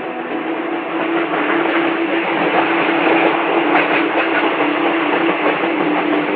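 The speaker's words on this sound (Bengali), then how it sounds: "হু হু করে ছুটে চলেছে ট্রেন।" A train rushes past in a continuous loud roar with a steady low hum, unbroken from start to finish.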